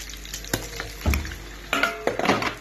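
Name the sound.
liver frying in a pan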